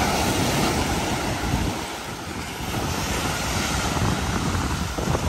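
Waves wash against the Lake Ontario shore at Liverpool, Pickering, in a continuous broad surf roar mixed with gusting wind buffeting the microphone, with no talking.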